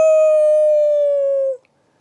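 A storyteller's voice imitates a wolf howling in pain, one long, loud, steady howl that holds for about a second and a half and then cuts off into silence.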